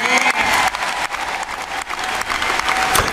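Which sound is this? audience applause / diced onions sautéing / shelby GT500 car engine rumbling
audience applause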